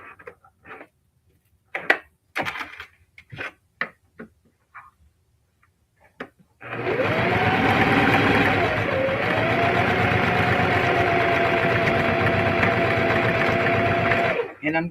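Several sparse clicks and short knocks come first, then a sewing machine running close and loud through a necktie in a steady, sustained whir that stops abruptly near the end.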